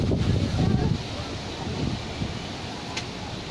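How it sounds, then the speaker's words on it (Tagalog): Strong wind buffets the microphone at an outdoor plant market, with a low, rumbling roar, heaviest in the first second and then steady, with a brief rustle near the end. "Uy, ang lakas ng hangin."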